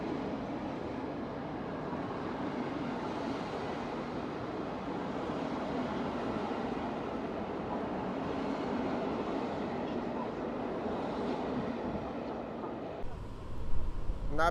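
A passenger train hauled by the locomotive nicknamed Dziobak rolls steadily past at Warszawa Wschodnia station, a continuous broad rumble and wheel noise that holds for most of the stretch before a brief change near the end.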